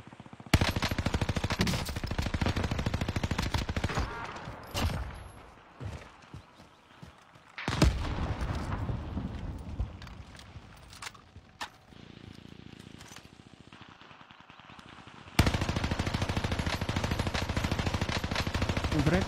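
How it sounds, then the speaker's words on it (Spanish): Light machine gun bursts in a video game, loud rapid automatic fire in repeated volleys with pauses between, some footstep-like clatter in quieter gaps. "Encontré una ametralladora ligera."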